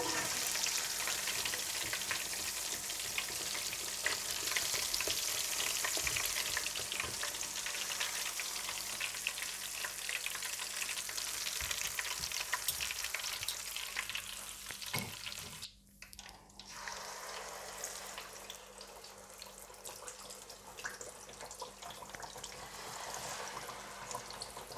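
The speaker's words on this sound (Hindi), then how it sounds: "अच्छा सा फ्राई करने के बाद आप इसे निकाल लें और इसी तरह से सारी फिश फ्राई कर लें।" Fish frying in a pan for a restaurant-style fish fry gives a steady, dense sizzle that runs throughout, with a brief dip and sharp break in the middle before the crackling resumes at a slightly lower level.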